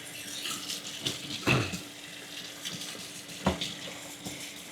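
Tap water runs steadily while rinsing the all-plastic filter of a GE 50 pint dehumidifier at a sink, with a couple of louder splashes as the flow hits the filter, no talking.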